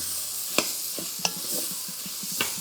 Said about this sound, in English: I'm going to saute this for about 3 minutes